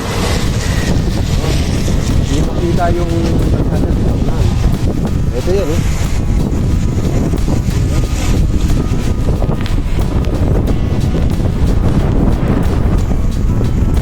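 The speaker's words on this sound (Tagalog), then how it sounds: "Lakas ng hangin, grabe oh." Strong wind buffets the microphone in a constant loud rush throughout, in fog while cycling the Batman Loop, with a person speaking briefly under the roar.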